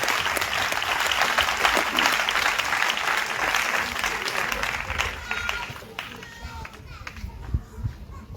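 A church congregation at a revival gathering applauds in loud, dense, sustained clapping mixed with cheering voices, then tapers off toward the end.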